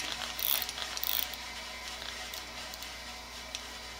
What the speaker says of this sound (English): Then this is right hand. And this is left hand ratchet.